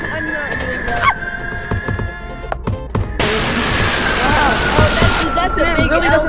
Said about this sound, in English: Hold the grip and flush the urinal!